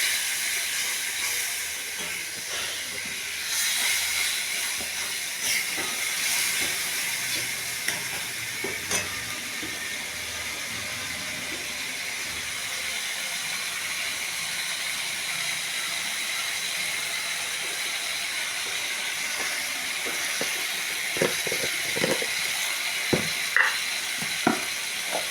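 A soaked spice paste of chili and turmeric powders sizzles steadily as it is sautéed for a jackfruit curry, a continuous close hiss with scattered stirring clicks and a few sharper taps near the end, no talking.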